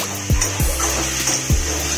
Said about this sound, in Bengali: অল্প অল্প করে জল দিয়ে দিতে হবে।